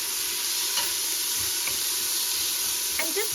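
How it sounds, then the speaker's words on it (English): Onions and carrots sautéing in olive oil in a pot, an even hissing sizzle with a few faint stirring scrapes, close and steady, no one talking. "dump in the onions and carrots to saute for about 5 minutes now"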